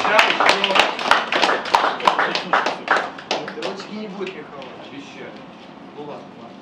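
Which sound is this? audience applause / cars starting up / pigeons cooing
audience applause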